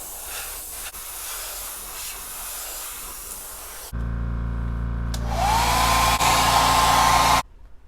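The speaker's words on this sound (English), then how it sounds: "we're going to start with an opaque white base coat here." Airbrush spraying opaque white base coat onto a squarebill crankbait, a steady airy hiss that changes into a louder rushing blast with a rising whine partway through, then stops abruptly.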